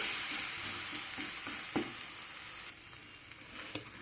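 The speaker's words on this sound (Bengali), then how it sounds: "চেপে ভেজে নেব" A vegetable paratha sizzles in a frying pan with a constant hiss and a few sharp pops and crackles scattered through the short stretch. No voices.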